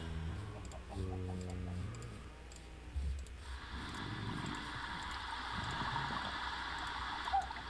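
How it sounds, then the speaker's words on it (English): Waterfall in a video game: after a few soft clicks and tones, a steady, rain-like rushing wash of water rises and holds at moderate volume for the rest of the clip. "It sounds like it's raining. That's a waterfall."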